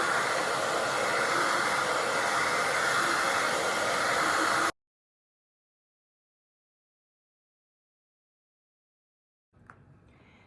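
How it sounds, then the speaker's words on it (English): A hair dryer blasts with a loud, steady roar for several seconds, then cuts off abruptly into silence before faint handling noise returns. "I'm gonna get my blow dryer, just my hair blow dryer, and help it warm up"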